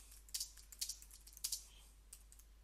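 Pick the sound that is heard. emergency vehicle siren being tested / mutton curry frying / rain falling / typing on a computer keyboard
typing on a computer keyboard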